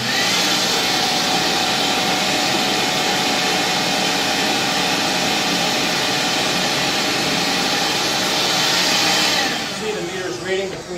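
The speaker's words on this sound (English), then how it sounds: "I'll now turn on the vacuum to simulate flow again." A vacuum simulating flow in a Panaflow Z1G flowmeter water dunk test runs loudly with a steady, roaring whoosh for several seconds, then winds down and sputters near the end.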